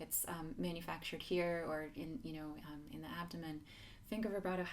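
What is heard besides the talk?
None of the usual background noises is heard.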